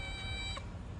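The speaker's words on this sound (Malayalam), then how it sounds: "നമ്മുടെ ഫ്ലാറ്റിലെ നമ്മുടെ സ്വന്തം പൂച്ചയാണ്" A cat in a flat gives one short, fairly faint meow in the middle of the moment, over steady low background hum.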